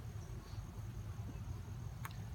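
Honeybees in an opened hive during an inspection give a faint, low steady hum close by, with a brief sharp tick near the end.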